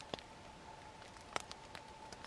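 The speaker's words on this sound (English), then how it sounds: "we've been hearing heavier drops, and I think that's where it's kind of collected in the trees above us" Rain collected in trees dripping onto a backpacking tent on a winter camping trip, a few faint, sparse taps, one sharper drop standing out against a quiet background.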